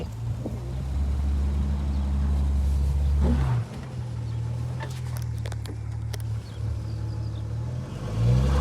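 An old 4x4 drives through the desert valley of Wadi Al Disah in Saudi Arabia, its engine a loud, continuous low rumble that dips briefly and swells again.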